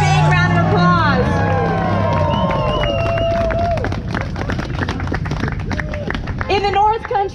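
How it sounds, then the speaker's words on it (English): Crowd at a Republican political rally in Watertown, North Country, breaking into clapping and cheering beneath loud music with sliding tones, the applause thickening into a steady patter of claps toward the end. "Let's give a big round of applause."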